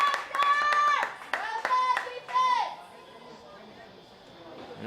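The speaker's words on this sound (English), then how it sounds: "You really hear the crowd getting into this." Crowd at the Harbour Bowl, the 2025 Gridiron NSW flag football championship, clapping with loud cheers and shouted voices in several bursts that fade to lighter applause and chatter.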